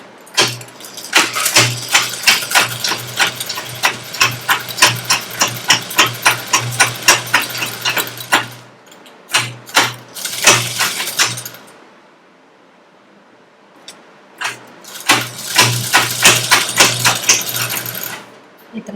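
Sewing machine stitching a fabric hair band, rapid rhythmic clattering in bursts with short pauses and one longer gap, close and fairly loud, no talk over it.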